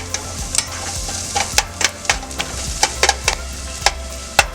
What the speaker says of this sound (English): we're gonna saute this on medium heat for another 2-3 minutes